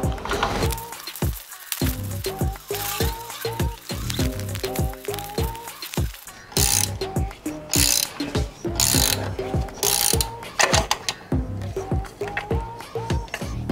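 Repeated ratcheting clicks and mechanical turning as a spanner and shifter work loose a pulley bolt on a BA/BF Ford Falcon during a cooling system overhaul, steady and close with no talking.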